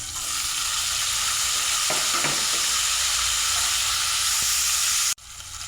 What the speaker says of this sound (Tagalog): Niluto na ang bumbay. Brown na. Lagay natin ang kamatis.